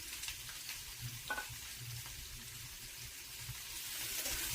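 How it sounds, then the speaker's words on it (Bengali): Chopped onions sizzling in oil as they are stirred in a pan for beef tripe curry, a steady soft fry with occasional spatula scrapes, quiet and close. "সুন্দর করে আমি এখন পেঁয়াজগুলো মিক্স করে নিব তেলের সাথে"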